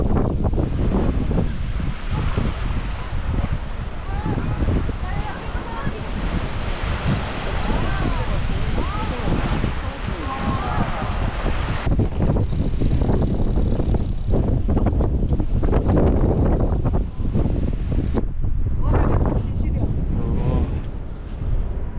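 Strong gusting winter wind buffets the microphone over the continuous roar of waves breaking on Seonyudo beach in Gunsan, South Korea, loud and unbroken throughout.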